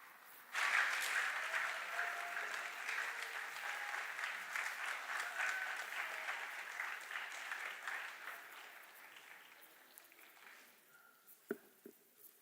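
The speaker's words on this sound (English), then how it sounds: "a round of applause for our 10th grade honors students." An audience at a high school academic awards ceremony applauds the 10th grade honors students, steady clapping that lasts about ten seconds and then fades out to a few scattered claps.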